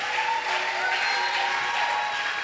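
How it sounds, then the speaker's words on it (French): Congregation applauding and cheering at a church prayer gathering, a steady continuous wash of clapping at even loudness throughout, with no clear speech. "J'aurais voulu que tu ajoutes encore les acclamations."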